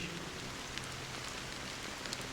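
Rain falling steadily in the Honkai Star Rail video game, a soft, even hiss of drops with a few faint patters and no voices.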